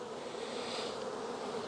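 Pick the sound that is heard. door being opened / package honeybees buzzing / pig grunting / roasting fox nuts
package honeybees buzzing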